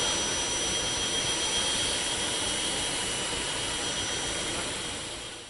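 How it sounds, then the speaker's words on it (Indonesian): Helicopter carrying a presidential party departing from Indonesia's new capital area after a dam site visit, a steady loud broadband rotor and turbine roar held throughout, fading slightly at the end. "Presiden dan rombongan meninggalkan Ibu Kota Negara dengan menumpang helikopter"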